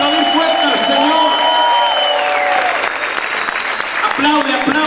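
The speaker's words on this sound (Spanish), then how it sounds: "¿Cuántos pueden aplaudir fuerte al Señor?" A church congregation breaks into applause and cheering while a preacher's voice carries over it; the clapping swells and stays loud throughout.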